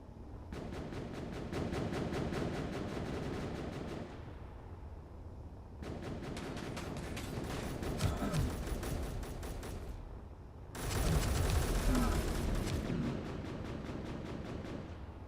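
Rapid, sustained automatic gunfire from a shooting video game rattles in three long bursts separated by short pauses, steady and fairly loud, with scattered impacts in between.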